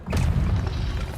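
An Incendio fire spell cast in Hogwarts Legacy, heard as a single heavy whooshing boom that swells quickly and rumbles on for about a second.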